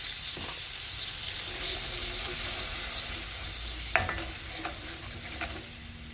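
Garlic, ginger and spices tempering in hot oil for a Mauritian fish vindaye, giving a loud, steady hiss with a few quick scrapes of a spoon near the end.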